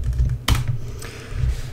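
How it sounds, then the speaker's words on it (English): Keys clatter on a computer keyboard in a short burst of typing, with one sharper, louder keystroke partway through, recorded close up with no talking. "what you want to do is start off by typing start PowerShell"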